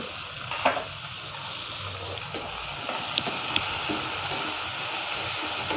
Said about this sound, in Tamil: அதலக்காயை நம்ம திறந்து வச்சே வதக்கி எடுத்துக்கலாம்